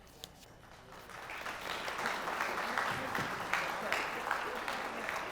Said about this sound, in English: We need those applause to catch our breath.